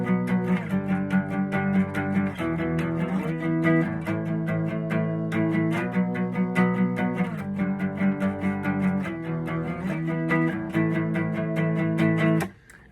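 Power chords on electric guitar play a riff, with steady, sustained strums in a repeating pattern. The guitar plays alone and fairly loud, with no voice.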